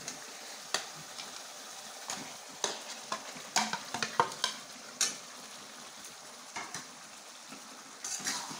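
Baghair fish pieces with chui chili are stirred in a hot pan, quiet oily sizzling under scattered sharp scrapes and clicks of a spoon against the pan.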